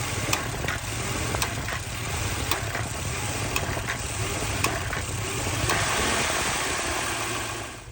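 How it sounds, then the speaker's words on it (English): A 2003-2005 Toyota 4Runner V8 runs steadily with a failing mass airflow sensor, giving a close, continuous engine drone with faint irregular ticks and no speech. "what it sounds like when the MAF sensor or the mass airflow sensor is needing to be changed"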